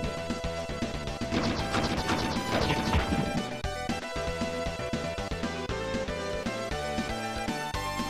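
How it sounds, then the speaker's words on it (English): Weapon smash attacks land in a Power Rangers video game, a burst of loud crashing and whacking hits piled over busy game music and effects, dense and continuous with no voices. "I can do an overhead smash if I tilt the controller up, or I can do side smashes"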